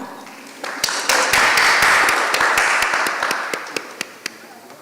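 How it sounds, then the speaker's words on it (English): Audience applause at a Barbados Meteorological Services and emergency management discussion, a burst of scattered claps building into steady clapping, then thinning to a few isolated claps near the end. "You can clap."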